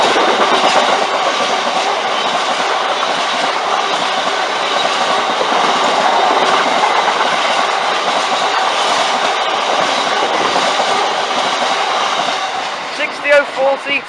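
Freight train 6E54, hauled by locomotive 60014 and made up of oil tankers bound for the Humber Oil Refinery, rumbles past loud and close. The dense, steady roar of wagons fades out near the end.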